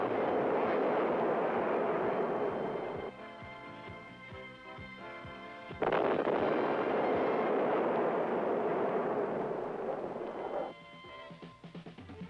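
A laser-guided munition strikes a moving, remotely piloted M47 tank on a test range: a loud, sustained roaring rumble runs throughout, dipping briefly twice and swelling again, with no voices.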